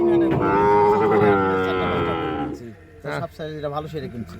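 Cattle at a livestock market lowing in one long, loud, drawn-out moo close by, followed by people talking nearby.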